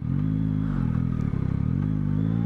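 A Yamaha motorcycle engine with a Y-AMT automatic gearbox runs steadily at a low rumble, and a single sharp clack from the gearbox disengaging cuts through about halfway.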